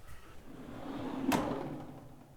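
A wooden drawer-in-drawer router bit storage tray in a workshop is pushed back inside its drawer, making a single soft sliding rumble that ends in a short thud, close and alone.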